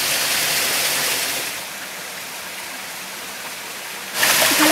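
A waterfall roars as a dense, steady hiss of rushing water, loud and continuous throughout, dipping slightly in level midway before surging louder again near the end.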